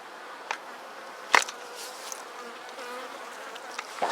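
Agitated honey bees buzz around a hive during a Thymovar treatment, a constant close hum with a few sharp knocks and clicks breaking through.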